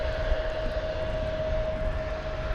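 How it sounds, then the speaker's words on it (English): American Airlines flight 600 arriving at DFW Airport from Austin, a sustained jet roar with a steady whining tone riding over broad rumble, moderately loud and even throughout, with no talking. "We've got American Flight 600 coming in from Austin now"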